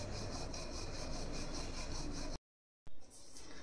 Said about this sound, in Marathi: आणि इथे अशी गोल एकसारखी लाटून घ्यायची।